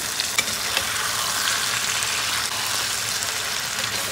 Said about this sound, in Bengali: ম্যারিনেটেড চিকেনটা একটা একটা করে আমি দিয়ে দিচ্ছি।